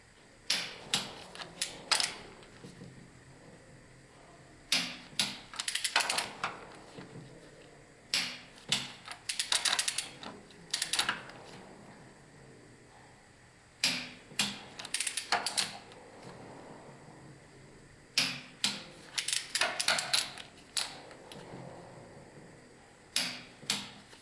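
A torque wrench tightens bolts on an OM 441 engine to a set value of 200, giving clusters of sharp ratcheting clicks in repeated bursts separated by quiet gaps.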